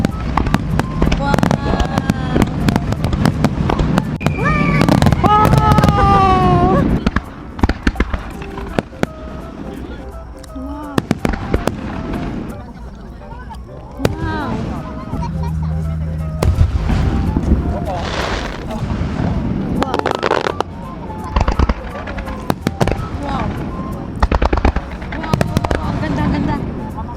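Fireworks display in Japan, with repeated booms and crackling bursts ringing out through the whole stretch while people nearby talk and exclaim over them.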